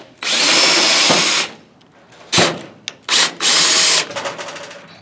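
A power screwdriver drives screws to mount a battery to the housing of a Fulham HotSpot1 LED emergency kit, close and loud, in several short whirring bursts separated by pauses and small clicks.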